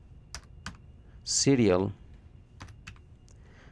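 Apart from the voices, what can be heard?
typing on a computer keyboard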